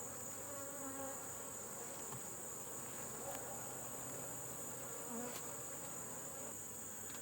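Honeybees buzzing in a steady, dense drone from an open Layens hive during requeening, close and continuous, with occasional individual bees passing.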